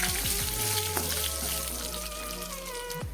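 Cumin, dried red chillies and curry leaves hit hot oil for sambar, giving a dense, continuous sizzle and crackle with a steady low rumble underneath, close by and with no talking.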